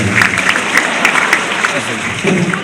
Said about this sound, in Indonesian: Tepuk tangan buat istri saya lagi